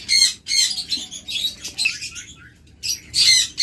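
Diamond doves and other caged birds in a bird shop, with close, loud bursts of chirping and squawking in irregular clusters separated by short quiet gaps.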